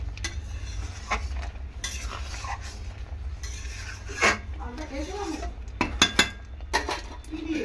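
A metal lid set on a pot of masoor dal cooking with ash gourd, with a few sharp clinks and scrapes over a low kitchen hum, close and moderately loud.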